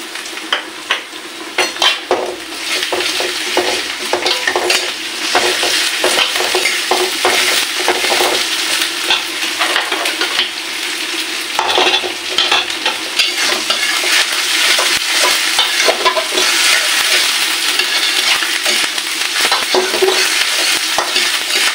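A spoonful each of garlic and ginger fries loudly in a pan while being stirred, with continuous close sizzling and frequent scraping and light clinks of the spoon against the pan.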